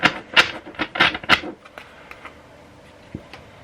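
A quick burst of crisp, fluttering riffle shuffling of cards up close during a card reading, followed by a few soft taps and quiet handling sounds.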